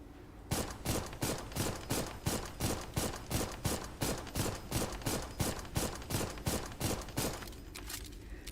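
Sustained gunfire from the mech combat game Armored Core, a rapid, evenly spaced stream of loud shots lasting several seconds, with a brief tail of quieter rumble as it stops.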